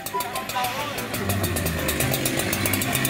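A Husqvarna 372XP chainsaw with a 1.2-metre bar roars steadily and loudly throughout, with a rough buzzing rattle as it cuts wood.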